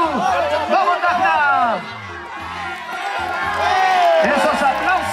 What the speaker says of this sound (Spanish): ¡Esos aplausos para esa pelea voluntaria!